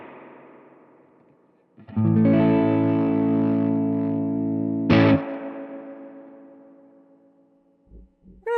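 A heavily distorted electric guitar chord rings out loud and sustained through a cranked Supro Airwave amp, then a sharp attack and a slowly fading tail.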